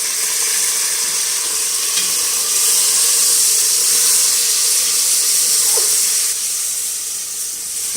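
Beef hits hot oil with frying ginger and garlic in a pan, making a loud, steady, close sizzle and hiss that runs unbroken throughout.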